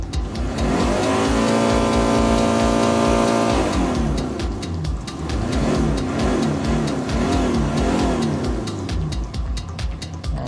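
The heavy diesel engine of a 2008 Hyundai Porter TCI double cab manual truck revs up and holds at high RPM for several seconds, then drops and surges again in wavering pulses, loud and close.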